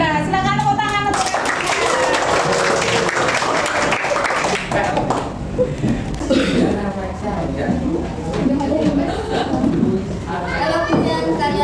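Children in a classroom clapping in a brief burst of applause at the start, followed by someone speaking clearly as she begins reading a poem aloud.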